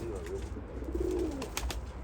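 Soft cooing of pigeons close by, a few low rolling calls over quiet background, with faint clicks and rustling.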